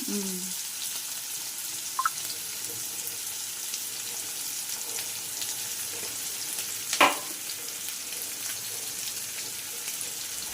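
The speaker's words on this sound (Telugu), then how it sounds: "ఉల్లిపాయ ముక్కలు, పచ్చిమిర్చి ముక్కలు కూడా తాలింపు వేసేసాను." Onion and green chilli pieces frying in a hot oil tempering with mustard seeds, a steady close sizzle throughout, with a brief knock and a sharper clatter of a spoon partway through.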